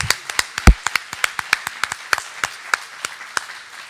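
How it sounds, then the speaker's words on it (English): Sparse, distinct claps ring out at an honorees' celebration at the 2022 Spellebration, about twenty sharp, separate hand claps over four seconds, close and uneven rather than a full crowd roar. "let's give all of our recipients, honorees, another round of applause, please"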